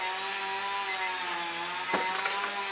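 A chainsaw drones steadily close by, its engine holding a constant pitch with a brief burst of extra noise near the end, with no talking.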